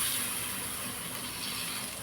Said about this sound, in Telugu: ఇది దీన్ని తీసుకెళ్ళి ఇందులో పోపులో వేసేస్తున్నాను.